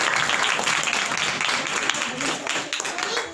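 Audience clapping at a Christmas puppet show for children, a dense, steady round of applause throughout, mixed with crowd noise.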